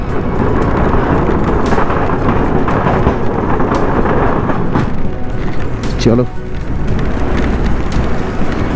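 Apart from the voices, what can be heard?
heavy rain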